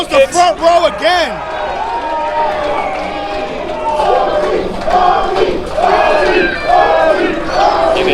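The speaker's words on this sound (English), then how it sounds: "You can hear the crowd here chanting Bobby." A wrestling show crowd chants and yells all through, a dense roar of many voices with rhythmic shouting swells. A commentator talks loudly over it at the start.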